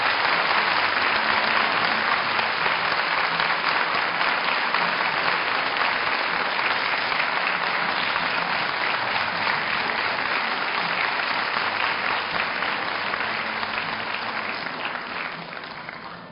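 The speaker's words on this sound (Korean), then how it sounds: "박수로 환영해 주시기 바랍니다" A large audience at a university degree-conferral ceremony claps steadily to welcome graduates, a dense even wash of applause that holds throughout and fades slightly at the end.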